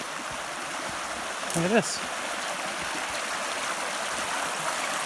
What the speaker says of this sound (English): Yeah, the creek's right here.